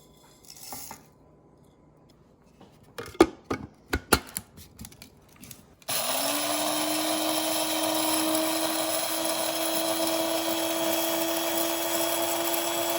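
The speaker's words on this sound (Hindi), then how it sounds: "ये जो हमने मसाले भुने थे, इनको हम इसमें किसी भी आप ग्राइंडर में, या वो आपके पास ग्राइंडर नहीं है तो किसी भी चीज़ में इसको कूट लें" Roasted spices rattle and clack in a grinder jar for a few seconds, then an electric spice grinder whirs up and runs with a loud, steady high whine to the end.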